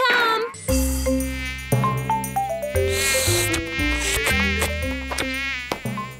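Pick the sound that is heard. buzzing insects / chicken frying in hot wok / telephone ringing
buzzing insects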